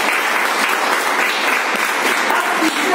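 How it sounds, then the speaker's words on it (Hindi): A crowd at a founder club meeting claps loud and close, a continuous thick burst of many hands that holds steady for a few seconds. "ताली हो जाए।"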